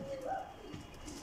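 A weak, sickly pigeon gives a soft, short coo close by, with faint background noise.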